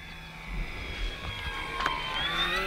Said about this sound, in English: This thing is a very, very unique airplane, and it's just beautiful to fly.